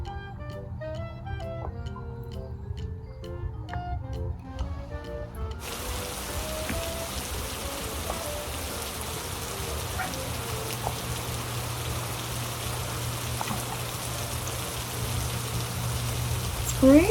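Steady, even rain falls after a short musical passage, a soft continuous hiss of drops that lasts to the end with no voices over it.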